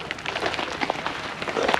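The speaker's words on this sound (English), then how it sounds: "then it started raining literally a half hour later, but it's beating up" Rain beating on a waterproofed camping tent while boondocking in Colorado, a dense, loud patter of drops drumming steadily on the fabric close by.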